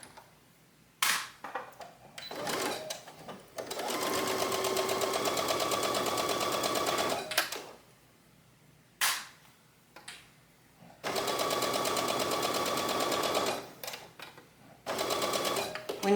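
A sewing machine stitches a back tack on a blouse seam in several close, loud runs of fast rhythmic clatter, separated by short pauses with light clicks and handling noise.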